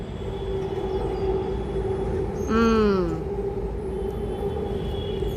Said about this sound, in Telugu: ఇదిగోండి చూడండి, ట్రైన్ వచ్చేసింది మళ్ళీ మనకి